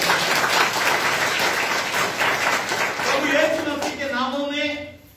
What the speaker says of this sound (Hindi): ताली बजा के परमेश्वर को धन्यवाद।